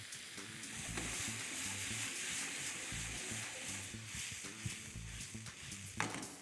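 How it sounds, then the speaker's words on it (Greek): A hot pan of canned tomato and sugar for stuffed zucchini with trahanas is deglazed with wine, giving a loud, steady broadband sizzle with soft stirring scrapes underneath and a sharp knock near the end. "σβήνουμε με κρασί"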